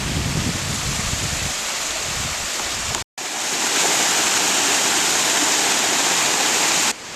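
A creek at Daniel's Cove, running low after a dry summer, rushes and splashes steadily in a loud, close, continuous wash, with a brief cut in the middle and no voices.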